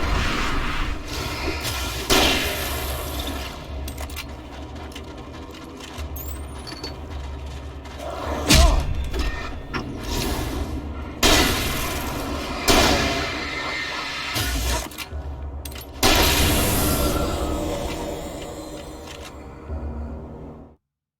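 Shotgun blasts in the game Alan Wake boom out at irregular intervals, several loud heavy thuds with short decays over a low rumbling game ambience, with no talk.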